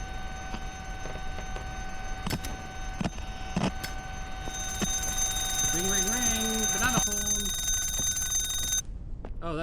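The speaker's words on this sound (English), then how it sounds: "Oh, that's the alarm clock." In a ghost-hunting video game, an alarm clock rings with a sustained electronic tone under scattered clicks and knocks, while a person talks over it.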